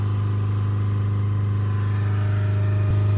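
A Land Rover Evoque 2-litre diesel engine with a blocked particulate filter is held at a steady 3000 RPM, giving an even, loud, continuous hum close by, with no talking.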